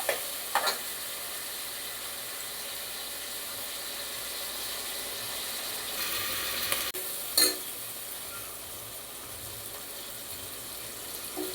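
Onion and tomato frying in a pan, a soft, steady sizzle with a few brief clinks and scrapes, heard alone without speech.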